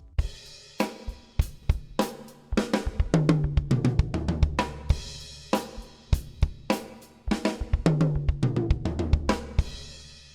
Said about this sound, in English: The fill alternates between the snare drum and the bass drum.